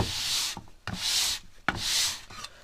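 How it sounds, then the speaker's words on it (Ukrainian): Sandpaper rubs back and forth across a wooden board in three long, steady strokes, close and rasping, with brief pauses between them, checking hand-planed wood. "взяти е, дошку за шліфувальною шкуркою і декілька разів привести"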